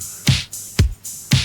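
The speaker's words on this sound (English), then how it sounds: "Next we've got the drums." A simple electronic drum beat: three evenly spaced hits, each a punchy kick with a bright crisp top, repeating at a steady pace.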